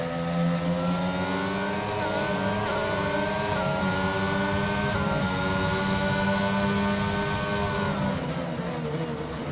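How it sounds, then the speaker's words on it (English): A racing car engine at full throttle in a racing video game, a loud sustained whine rising steadily in pitch with brief shifts, continuous and alone. "Accelerator, full throttle"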